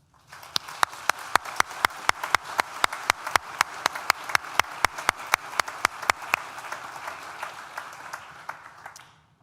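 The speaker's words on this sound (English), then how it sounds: "So please, would you join me in thanking them with a round of applause?" A graduation ceremony audience gives applause, even, steady clapping that builds quickly, holds dense and close for several seconds, then fades out.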